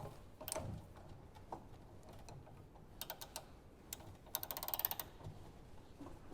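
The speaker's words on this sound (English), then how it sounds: "we're going to put our 1/2 inch bar in there and just tighten this up as well" A 1/2 inch breaker bar and ratchet tighten the hardware on a Kinze planter gauge wheel arm. Quick clicking ratchet runs come in short bursts over a low background hum.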